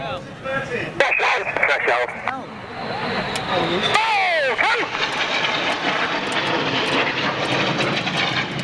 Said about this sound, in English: One aircraft inverted, and then they swap. The other aircraft goes inverted as they pass each other.